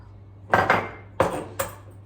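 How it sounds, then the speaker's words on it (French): A utensil knocking against a bowl while eggs and vanilla sugar are mixed, three or four sharp, close clinks spaced unevenly over a low steady hum. "Je vais mélanger d'abord les œufs, le sucre vanillé."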